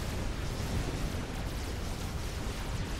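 In Supreme Commander: Forged Alliance, an overcharge weapon shot strikes a unit amid battle, a dense, rumbling blast of explosive noise that churns on without a break.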